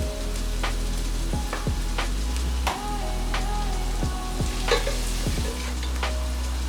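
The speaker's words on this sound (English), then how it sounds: "Once these are getting fried, we will add the onions." Onions frying with salt in a pan for breadfruit beef curry, a steady close sizzle broken by repeated scraping stirs and clinks.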